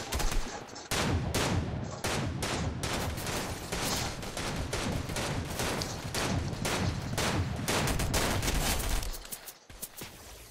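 Sustained automatic gunfire in Fortnite Chapter 3 Season 3, dense rapid bursts of shots that run almost continuously for about nine seconds before dropping away, loud and with no talking.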